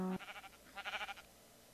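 A sheep in Minecraft bleats once in a short series of wavering, pulsing cries, close and clear after a brief tone, with no talk over it.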